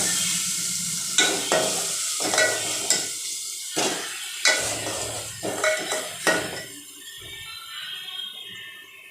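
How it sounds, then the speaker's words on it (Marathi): Masala fries in a pan over a medium gas flame, a continuous sizzle punctuated by repeated metallic scrapes and knocks of a spoon stirring against the pan. "मीडियम गॅसवर मसाला तळायचा आहे."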